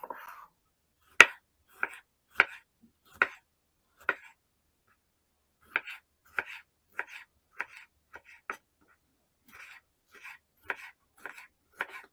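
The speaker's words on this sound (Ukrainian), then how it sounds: "Помідори теж буду нарізати кубиками." A knife taps steadily against a cutting board, cutting tomatoes into cubes for shakshuka, a series of crisp, evenly spaced chops with brief pauses between runs.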